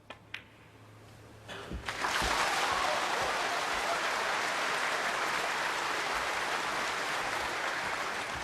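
A snooker tournament crowd at the International Championship final bursts into loud sustained applause and cheering after a few sharp clicks and thuds, the dense clapping filling the hall without pause.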